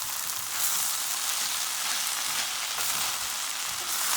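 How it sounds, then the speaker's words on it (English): Shrimp and flat beans sizzle steadily in a hot pot as they are stirred, a bright, close frying hiss with no talk. "So I'll give this a quick stir"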